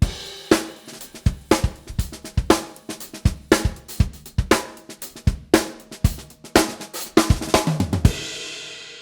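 Drum kit groove with a fill on beats 2, 3 and 4, crisp close-miked hits repeating in a steady rhythm, then a crashing cymbal left ringing out at the end.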